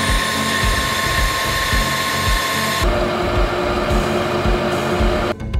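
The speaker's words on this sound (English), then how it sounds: "I machined the main shaft on the lathe as you can see." A metal lathe machines the main shaft for a homemade wood chipper, giving a continuous loud whine and grinding that shifts in pitch partway through and cuts off briefly at the end.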